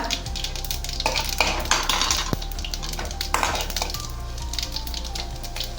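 Mustard seeds, chana dal, urad dal and cumin fry in a couple of spoons of oil, with a crackling sizzle under repeated stirring scrapes and clinks of a spoon against the pan.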